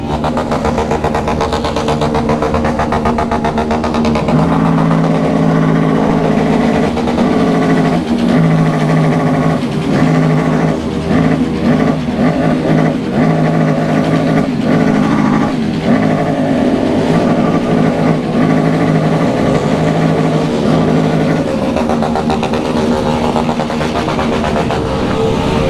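A motorcycle engine runs continuously with a steady droning rumble, rising and falling slightly over a long stretch, loud and close with no talk.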